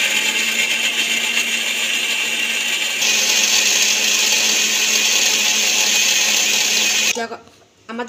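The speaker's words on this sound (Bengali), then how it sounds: "একটু জিরে দিয়ে এতে হালকা জল দিয়ে এটা একটু মিক্সিতে পিষে নিতে হবে" A mixer grinder whirs loudly and steadily as it grinds cumin seeds with a little water into a spice paste, its motor pitch rising partway through before it cuts off abruptly near the end.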